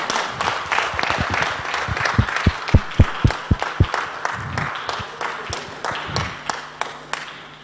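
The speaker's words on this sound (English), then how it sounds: "Let's cheer it one time for the Cavaliers." An audience at a Toastmasters tall tales championship awards event applauds, with a few loud, close, rhythmic claps standing out over a steady crowd patter that gradually thins.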